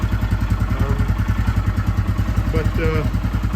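A 2021 Royal Enfield Himalayan motorcycle idles on its stock exhaust with a steady, even, low thump. It is close and continuous, and faint clatter sits on top.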